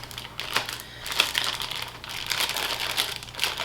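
Plastic freezer baggies have their ends flipped over by hand while zucchini is being prepared for freezing, giving close, crisp crinkling and rustling in irregular bursts with no talking.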